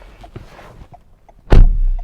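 A 2020 Toyota Highlander's car door swings shut with one solid, close thunk near the end, after a few faint rustles and movements inside the cabin.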